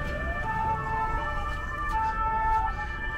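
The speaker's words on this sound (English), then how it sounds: "You can hear siren." An ambulance or fire engine siren wails through a small Ukrainian town, a steady rising and falling tone heard at a moderate distance over low background rumble, with no talking.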